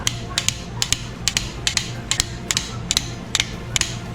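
A ratchet wrench clicks in quick repeated bursts while re-checking the small girdle bolts on a Honda K20/K24 engine build, roughly ten sharp close clicks over a steady low workshop hum, with no talking.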